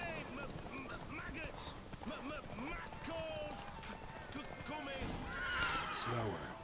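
A horse in the video game The Witcher 3: Wild Hunt whinnies repeatedly over the steady clip-clop of its hooves, with a voice talking over it.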